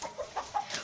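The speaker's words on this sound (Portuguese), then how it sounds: "eu vi uma galinha" A chicken clucks softly in a short series of four or five quick, rhythmic clucks, faint and alone.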